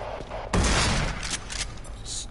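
A shotgun blast in the video game Doom 3 VR, one loud boom with a short decaying tail, followed by faint scattered game noise.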